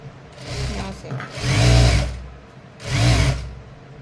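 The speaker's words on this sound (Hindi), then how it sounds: "अब एक सिलाई इसके ऊपर से लगाएंगे" An electric sewing machine stitches umbrella frock fabric in two loud, whirring bursts, each rising and falling, with quieter handling sounds between them.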